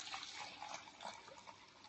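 Vinegar poured from a bottle into a container while mixing an all-purpose cleaner, a steady liquid splash and trickle lasting about two seconds, fairly quiet and close, with no talking.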